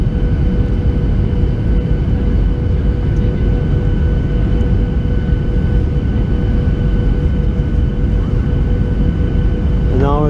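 Steady loud broadband rumble of aircraft at an airport, with constant engine drone and faint tonal hums throughout, no talk.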